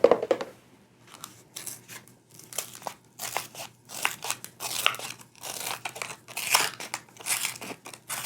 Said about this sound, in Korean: 종이컵을 잘라내서 꺼내 보도록 합니다